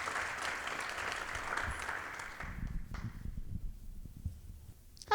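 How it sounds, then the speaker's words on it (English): At a nonprofit awards event, soft applause for an honoree joining the stage fades out after a couple of seconds. Faint low rumbling and handling noise follow, with a brief click at the very end. "let's give Barbara a round of applause as she joins us on the stage here today"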